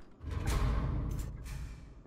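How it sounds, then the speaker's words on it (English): A loud mechanical door opening in the video game Marauders, a heavy creaking and grinding burst that swells over about two seconds with bright metallic clanks, alone with no talk. "Door is so fucking loud."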